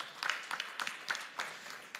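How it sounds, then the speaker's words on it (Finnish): A live audience at an evening revival tour event in Lahti gives faint, scattered hand claps, a handful of sharp claps spaced out over a couple of seconds rather than a full ovation. "Eiköhän anneta isot aplodit kaikille TV7 katsojille"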